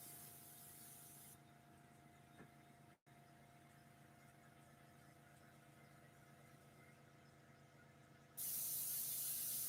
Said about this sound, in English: if you hear a hissing, I'm trying to dry my base with the airbrush